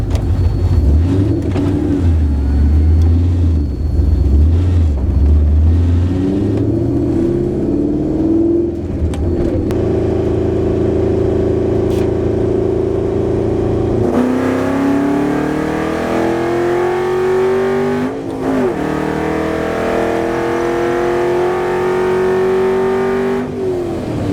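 A nitrous-equipped car engine revs hard at night in Mexico, its loud, steady pitch climbing through a full pull with brief gear-change dips, heard close and alone without talk.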